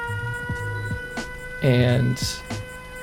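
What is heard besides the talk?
auto alarm siren in Fallout 76 camp, from a video game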